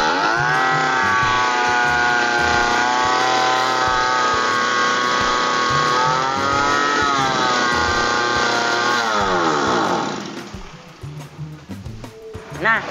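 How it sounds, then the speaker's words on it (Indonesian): A lawn mower engine starts and revs high in a steady, loud drone for about ten seconds, with pitch shifts around six and nine seconds, then falls to a rougher, quieter idle. "kita coba hidupkan terlebih dahulu mesin pemotong rumputnya ya."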